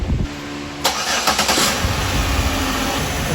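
A Pontiac G6 engine cranks briefly and fires up, then settles into a steady idle hum, close and loud with no talking.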